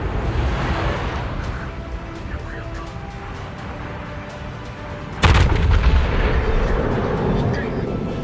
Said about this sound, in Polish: ta dodatkowa artyleria już obija Zitena